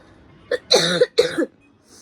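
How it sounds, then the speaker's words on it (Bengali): A person coughs repeatedly at close range: a short hack followed by two longer, harsh coughs in quick succession, loud against a quiet background. "এই কাশিটা থামছে না"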